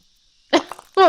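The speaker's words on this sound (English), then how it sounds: "That was a sneeze." A sneeze from a video game character in Saintmaker rings out loud and close after a quiet stretch, a single sharp burst followed by a voiced tail, with speech starting right after.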